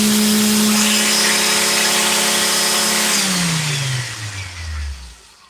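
A jitterbug finish palm sander runs loud and steady, a strong electric motor whine with a constant hum, then switches off and winds down, the pitch sliding lower over its last couple of seconds.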